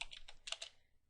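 A command being typed on a computer keyboard: a short burst of about seven quick, close key clicks, soft and alone.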